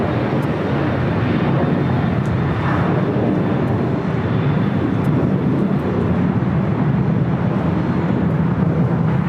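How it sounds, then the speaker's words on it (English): An Airbus A350-900 airliner touches down at LAX, a steady, broad roar of jet engines and rushing air that holds at an even level throughout, with no talk. "SAS back with the A350-900 touching down on the south side"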